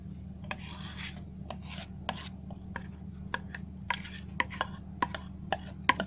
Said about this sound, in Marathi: सर्व मिश्रण आहे ना असं चमच्याने काढून घ्यायचं, कारण ते सगळं भांड्याला लागलेलं असतं.